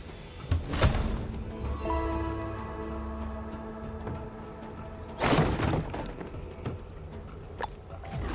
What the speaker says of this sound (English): It's the sound of a chest.